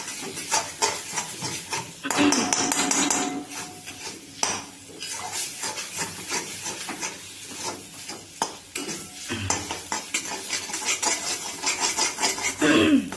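Fish curry spice paste being stir-fried in a pan for a Bengali macher jhal with rohu pieces, a spatula scraping and knocking against the metal in an irregular rhythm over a steady sizzle, close and moderately loud.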